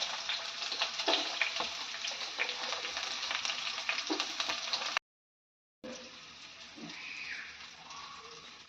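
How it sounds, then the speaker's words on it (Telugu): Onions roasting in a pan with three or four green chillies, a steady close crackling sizzle with occasional stirring scrapes, cut by a brief silent gap before the frying resumes, no speech. "ఆనియన్స్ అంతా వేసుకొని ఫుల్గా రోస్ట్ చేయాలన్నమాట."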